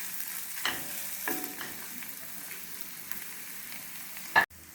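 Chopped carrots cooking in a pan, a soft steady sizzle with occasional scraping stirs of a spoon, quiet and close, ending in a sharp knock.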